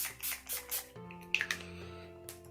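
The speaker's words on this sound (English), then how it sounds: "To set everything, I'm going to use the Urban Decay All Nighter setting spray." Three quick puffs of an Urban Decay All Nighter makeup setting spray, close and crisp, followed by faint clicks and light handling sounds in a quiet room.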